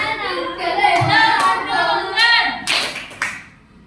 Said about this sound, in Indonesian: Tepuk tunggal